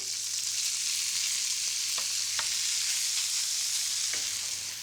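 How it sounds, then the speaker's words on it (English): Bacon renders over medium heat in a pan, giving a dense, even sizzle throughout with a few faint clicks of stirring. The sound is close and there is no speech. "I've got this on a medium heat, not too hot because we want to render the fat out of the bacon"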